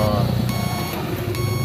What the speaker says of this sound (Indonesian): tumunog ng konti yung buzzer ko.